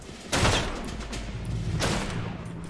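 Fireworks go off in a horseback shooter video game, two heavy crackling bursts about a second and a half apart over a steady low rumble, fairly loud and close.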